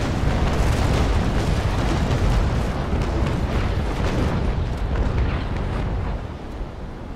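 Sustained naval cannon broadside from a sailing warship in the Naval Action game, Indefatigable against Belle Poule, a dense rolling roar of overlapping booms that stays loud for several seconds before easing slightly.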